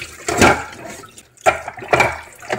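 Sweet potatoes being washed by hand in water, with three bursts of splashing and sloshing separated by short pauses, close and fairly loud with no talking.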